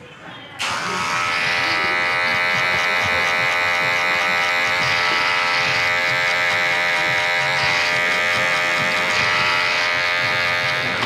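Electric hair clippers buzz continuously at close range with a bright, steady motor hum while a barber cuts a skin fade in a barbershop, the tone holding even throughout with no talking.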